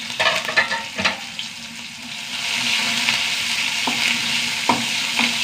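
Mustard seeds, small shallots and curry leaves sizzle loudly in hot oil. A few sharp pops and stirring knocks come first, then a continuous hissing fry.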